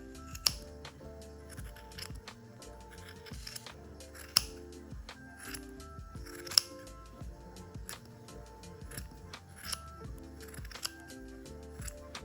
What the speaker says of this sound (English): I'm using my sharpest scissors to cut across all the swatches, both vertically and horizontally.